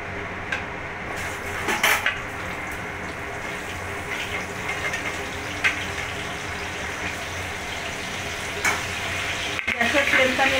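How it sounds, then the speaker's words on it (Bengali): Pointed gourd and potato fry in oil left over from frying shrimp, a steady close sizzle broken by scraping stirs and occasional clinks of a utensil against the pan. "চিংড়ি মাছ ভাজার তেলেই আমি এখানে পটল আর আলুটা ভেজে নেব"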